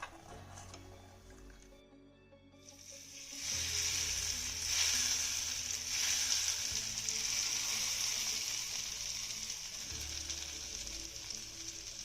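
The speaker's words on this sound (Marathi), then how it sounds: "आता ही चुरचुरीत फोडणी आपल्याला चटणीवरती घालायची आहे." Hot oil tempering with asafoetida and turmeric hits a wet red chili chutney (ranjaka) and bursts into a loud, close sizzle a few seconds in, then keeps hissing steadily with small crackles.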